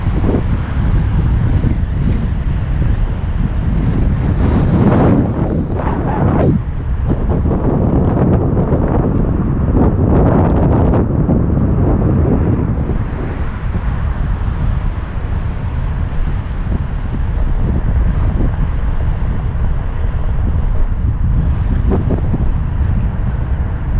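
Cold November wind roars across the microphone while riding a Onewheel Pint, a loud continuous rushing buffet that swells and eases in gusts throughout, with no talk.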